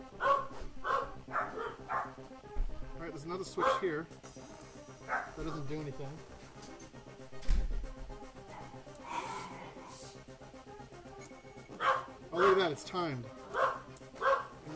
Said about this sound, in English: So my dogs are barking because the doorbell rang.